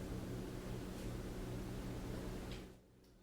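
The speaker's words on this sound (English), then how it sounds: "it scans the radio waves and emits a white noise in between the signals" Dense, steady static from a spirit box scanning radio waves hisses loudly for a few seconds, then drops abruptly to a quieter hiss.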